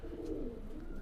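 An Oman teddy pigeon gives a low, soft coo, a single brief close call on its own.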